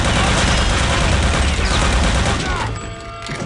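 Dense, continuous gunfire and booming shots from Return to Castle Wolfenstein, a World War II shooter game, fill the whole stretch loudly before easing slightly near the end, with a voice faintly mixed in.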